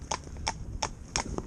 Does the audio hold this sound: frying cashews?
no